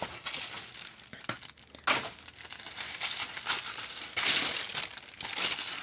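Thin carbon paper for transferring designs onto a linoleum block is handled and crinkled close up, with papery rustles and crisp crumpling bursts coming and going throughout, no talking.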